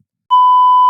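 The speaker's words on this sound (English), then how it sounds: "Anyways, I'll beep that out." A censor bleep masks a swear word in a podcast conversation: one steady, loud electronic tone that starts abruptly and holds for under a second.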